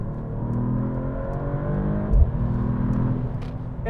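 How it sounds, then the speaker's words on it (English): A 2025 Mercedes-AMG E53 with a turbocharged engine of nearly 600 horsepower accelerates hard, giving a loud, steady engine drone with layered rising harmonics and a brief low thump partway through. No voices are heard. "There are lots of turbo noises going on whenever you accelerate and lift off."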